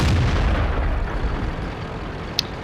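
Artillery fire in the World of Tanks video game: a heavy, rumbling boom rolls out at the start and decays slowly, with a short sharp crack near the end.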